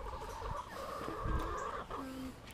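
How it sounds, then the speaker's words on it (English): Hungry chickens cluck and murmur softly nearby while being fed, a steady low jumble of hen calls with no voices. "Watch Jessa feed these hungry chickens."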